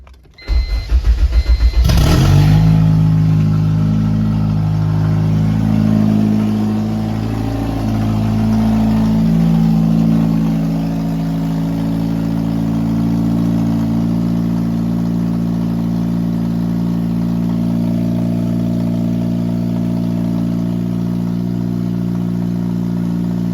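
A Honda Civic with a swapped K24 engine and a manual conversion cranks and fires up, then revs briefly. It settles into a steady, loud idle with a few light throttle blips, close by and with no one talking.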